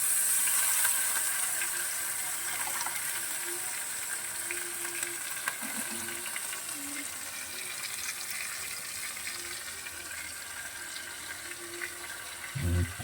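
Water runs and splashes as chopped onion, chili and coriander are rinsed and drained, a steady wet hiss with small clinks and sloshes close by, no voices.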